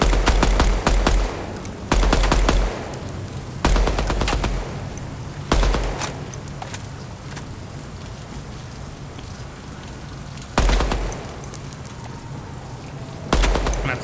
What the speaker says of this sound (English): shooting at a range at a moving target is much more difficult with the recoil pattern and such